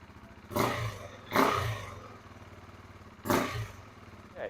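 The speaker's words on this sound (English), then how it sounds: "revs fine, idles fine, no more smoke." A KTM RC 390 motorcycle engine, freshly given a valve adjustment, idles with a steady low putter and is blipped three times in quick, sharp revs that fall back to idle, heard close with no talking.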